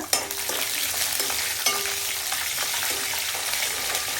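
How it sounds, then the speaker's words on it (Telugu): Peanuts frying in oil with a busy crackling sizzle and occasional scraping stirs of a spatula in the pan. "పల్లీలు మంచిగా ఇట్లా నూనెలో బాగా వేగాలి చిటపట అనేలాగా"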